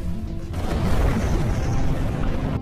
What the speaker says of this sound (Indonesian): Ellie dengan sigap menarik pin granat yang ada di saku celana Bros. Hingga pada akhirnya Bros tewas dari granat yang dia rakit sendiri